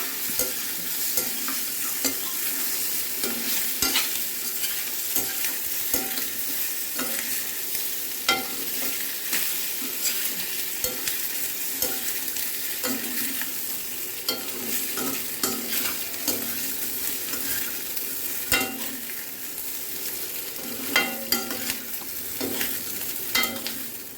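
Spoon scraping and stirring rava balls in a frying pan over a soft steady sizzle, with irregular clinks and knocks repeating throughout.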